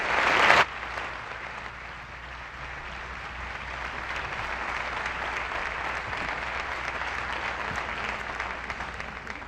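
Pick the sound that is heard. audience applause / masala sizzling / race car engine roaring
audience applause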